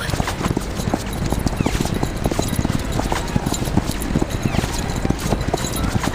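A horse gallops in a video game, rapid rhythmic hoofbeats clattering close and loud throughout, with faint game sounds in the background.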